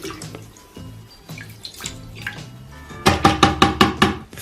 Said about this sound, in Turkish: Porçözümü dökmeye başladım şimdi.